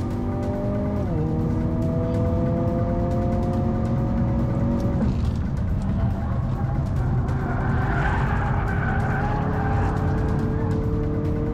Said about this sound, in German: Auch Kurve 7 kann der Kona eine ganze Ecke schneller nehmen als der i30.